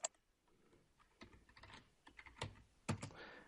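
Quick bursts of keystrokes clatter on a computer keyboard while a Linux command is typed, a close, quiet run of separate clicks with short pauses and no talking.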